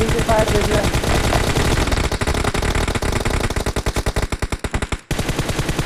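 Rapid automatic gunfire in PUBG Mobile, dense bursts of shots that break into distinct, separated rounds toward the end before stopping abruptly, loud and close, with some voices in the background.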